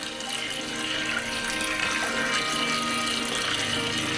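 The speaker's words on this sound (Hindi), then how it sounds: "देखिए, वो झरना, इसकी आवाज कितनी मधुर है और वो बहती नदी कितनी शांत" A waterfall and a fast-flowing river give a steady, even rush of water that stays at a constant level throughout.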